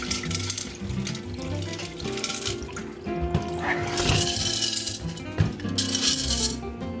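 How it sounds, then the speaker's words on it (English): Murky water being rinsed out of a bamboo plant container at a sink, with running and splashing water continuing steadily and close throughout, with scattered clinks and drips against the container. "So I'm gonna give the bamboo water a good little rinse over"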